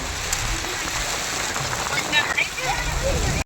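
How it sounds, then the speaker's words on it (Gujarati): Heavy rain beats down steadily and loudly on a vehicle on the road, a dense continuous hiss with a few brief faint sounds near the end. "જોરદાર વરસાદ આવે છે કાંઈ દેખાતું નથી એવો વરસાદ આવે છે"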